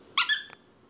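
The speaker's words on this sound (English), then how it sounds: "sheep skin or whatever, shaped into a bone. We call it sheep bone, but the center squeaks." A squeaky dog toy made of fake sheepskin shaped like a bone squeaks twice in quick succession, sharp and close, followed by a faint third squeak in a quiet room.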